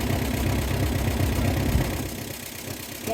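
A Ford tractor engine idles just after its carburetor was cleaned, giving a steady low, knocking rumble that is loud at first and settles slightly quieter after about two seconds, with no talking.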